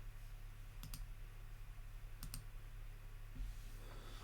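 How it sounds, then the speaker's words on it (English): Crisp mouse clicks in a web browser game, arriving as two quick double-clicks about a second and a half apart with a single softer click later, set against a steady low electrical hum and no voices. "every time I click"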